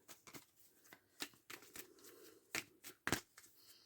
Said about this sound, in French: Je vous fais une coupe.